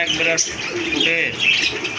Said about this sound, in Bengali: এগুলো কিন্তু একবারে টপ লেভেলের কবুতর টকটকে লাল